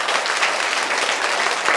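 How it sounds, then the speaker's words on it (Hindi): Steady, dense applause from a crowd at a quiz event in a Buddhist vihara, loud and continuous throughout the short stretch, with no voices standing out. "जोरदार तालियां।"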